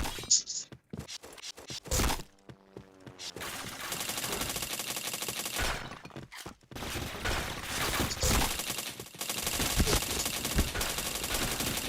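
Rapid bursts of gunfire crackle through a shooter video game match, with sharp repeated shots and dense stretches of sustained automatic fire, loud and close, while a voice talks over parts of it.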